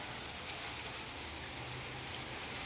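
Steady rain falls in a dense, even hiss with faint patter of drops, continuous throughout and no voices.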